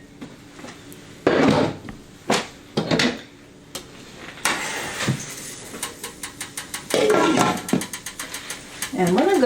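A metal lid is set onto a pot on a kitchen stove, giving a few sharp clanks and rattles among other pot-and-pan handling noises, loud and close.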